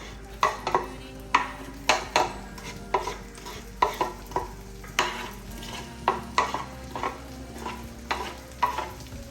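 Garlic and shallots sauté in melted butter with a low sizzle under repeated, rhythmic scrapes and clacks of a utensil stirring against the pan, close and fairly loud, with no voices.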